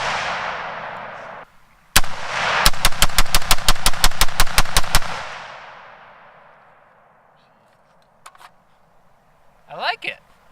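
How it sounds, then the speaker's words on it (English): A rifle fitted with a muzzle brake fires Tula ammunition in a fast full-magazine dump, a rapid string of about a dozen loud, sharp cracks with a booming echo that fades afterward, and a voice speaks briefly at the end. "Let's see if we can get through a full mag dump with this guy and have some fun."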